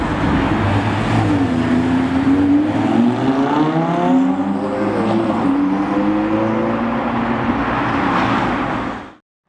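A Lamborghini Huracan engine roars loudly and continuously nearby, its pitch sweeping up and down through several revs before cutting off abruptly.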